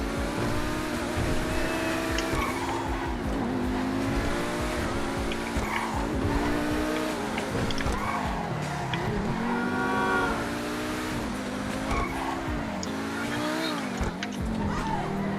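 A Pegassi Tempesta supercar, modeled on the Lamborghini Huracan, drives hard in GTA Online. Its engine drones and shifts pitch continuously, with sustained tire squeals and skids throughout, loud and close.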